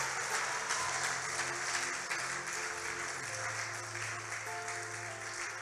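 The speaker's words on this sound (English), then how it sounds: "Your clapping is weak" Church congregation clapping through a worship service, a steady, moderately loud patter of many hands with sustained organ or keyboard tones underneath, lasting several seconds without speech.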